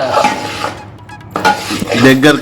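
Flour being stirred into a jaggery mixture in a pot: close scraping and clinking of a utensil against the vessel in short bursts, with people talking over it.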